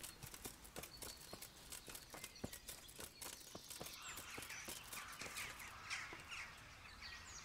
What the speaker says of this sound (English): Why are there so many crows here?